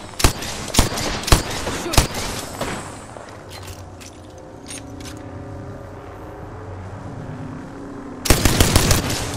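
Rapid bursts of enemy gunfire in Apex Legends crack out loud and close in clusters, trailing into a quieter stretch of rumbling battle ambience before another dense volley erupts at the end.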